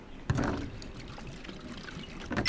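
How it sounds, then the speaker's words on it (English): Fuel is poured into a lawn mower's tank in the Lawn Mowing Simulator video game, a short gurgling pour with a soft clunk at the start and another near the end. "So yeah, add fuel."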